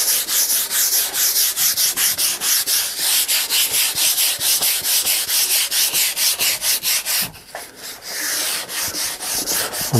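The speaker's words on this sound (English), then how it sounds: "I may start wet sanding some of this as my sweat drips onto it as I'm sanding" Sandpaper rubs back and forth across a boat cockpit hatch in fast, even strokes, loud and close, about four per second, with a brief pause partway through before the rhythm resumes.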